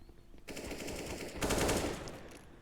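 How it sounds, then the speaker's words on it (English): AK-47 automatic fire in a competitive first-person shooter match, sustained bursts of rapid shots at moderate volume with a louder, denser burst in the middle, and no voices over it. "puts his AK-47 to work and gets a frag"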